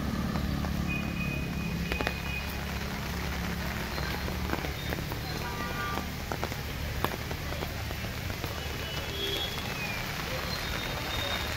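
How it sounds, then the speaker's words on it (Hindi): Heavy downpour in Nainital during an orange alert, a steady wash of rain hissing on surfaces with scattered drips and occasional faint background noises, continuous and fairly quiet throughout. "दोस्तों तेज़ बारिश होने लगी है"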